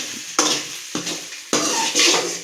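Four kilos of okra sautéing in oil in a pan: bursts of scraping and stirring clatter over a soft, steady sizzle, coming in three distinct rounds, close and moderately loud, with no talking.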